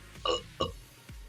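A loud, drawn-out burp from a man who has just eaten two burgers, breaking into two gurgling pulses followed by a short low grunt.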